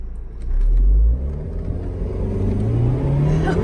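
An Audi TT 2.0T Quattro Premium Plus convertible accelerates hard with a loud, low engine surge, its pitch climbing steadily through the gear as it pulls away up close.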